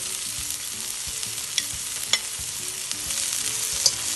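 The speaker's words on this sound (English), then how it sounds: "you have to stir it all up" Hakka noodles with peas stirred in a hot pan, giving a continuous bright sizzle with soft scraping and a few sharp clicks of the utensil, close by and without voices.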